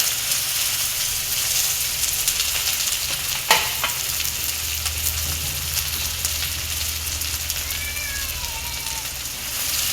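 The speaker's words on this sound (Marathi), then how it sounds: "मोहरी तडतड झाली की आपण त्यामध्ये कांदा टाकतो" Chopped onion dropped into hot oil with spluttered mustard seeds for vada pav, a close, steady sizzle and crackle throughout with a sharp splatter pop partway through.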